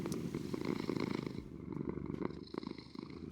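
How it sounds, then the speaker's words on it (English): Contented cats purr just after being fed, a steady low rumble that is fairly quiet, with occasional small clicks and shuffling noises. "turn the sounds way up so we can hear the beautiful ASMR purring"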